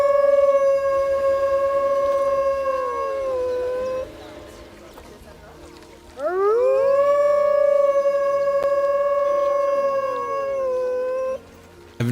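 Two long wolf howls from Planet Zoo, the first sustained then dropping away, a short pause with faint talk, then a second howl rising sharply, holding loud and sinking again.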